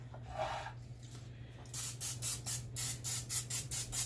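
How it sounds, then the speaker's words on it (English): Several short hissing bursts from an olive oil spray bottle onto a pan, close by, in a quick irregular series, after some faint rubbing over a steady low hum. "Now I'm going to take my olive oil spray."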